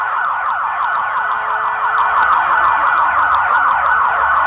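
LRAD long-range acoustic device at a protest emitting a very loud, continuous warbling tone, sweeping rapidly and steadily without pause, harsh and dominant throughout.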